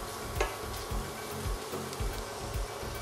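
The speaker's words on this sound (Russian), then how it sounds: "жарим наш лук-шалот" Shallots sizzle and crackle in a hot pan for chicken liver pâté, a quiet steady frying hiss with periodic soft stirring thumps.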